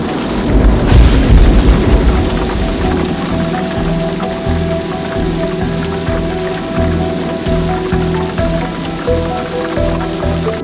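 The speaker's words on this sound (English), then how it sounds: "And then the Mumbai monsoon arrived." Heavy Mumbai monsoon rain pours steadily and loudly, a dense close hiss of drops on surfaces with low rumbling thuds underneath, continuous throughout with no voices.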